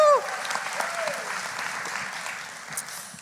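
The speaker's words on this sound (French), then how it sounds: "Gloire à Dieu, on l'applaudit." Steady applause fills a church service, a dense even patter from an audience of many hands that holds for several seconds and fades slightly, with a brief voice at the start.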